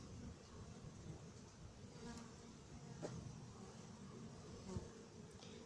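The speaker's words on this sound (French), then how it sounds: "Un autre frelon ici." A dense, continuous buzz of many honeybees and hornets hums close by around the hive and an anti-hornet tent, with a few sharper clicks and no talking.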